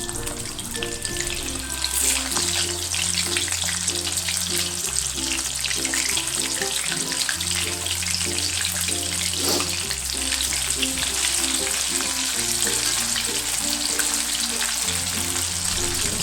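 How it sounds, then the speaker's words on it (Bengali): Fish pieces frying a second time in hot oil over a medium-low flame, giving a dense, continuous crackling sizzle, close and loud, with background music playing underneath throughout. "আগে থেকে ফ্রাই করে রাখা মাছগুলোকে আবার একবার ভেজে নিতে হবে"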